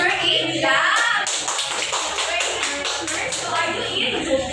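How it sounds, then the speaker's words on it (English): A multigrade class of children claps hands together in a dense burst lasting a few seconds, with children's voices and shuffling around it in a room. "So let's give this bird a clap."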